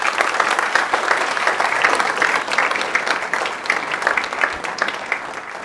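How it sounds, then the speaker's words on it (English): Sustained audience applause at a Canine Companions graduation ceremony honoring puppy raisers, a dense, steady patter of many hands clapping together for several seconds without any voices over it. "Let's give them all a round of applause"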